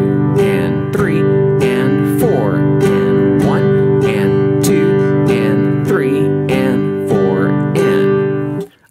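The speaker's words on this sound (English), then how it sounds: "we play the down strum on the downbeat, and then we come back by striking the strings on the upbeat" Acoustic guitar strummed in steady eighth notes, alternating down and up strokes on every beat and off-beat, sounding close and loud with ringing chords for about nine seconds.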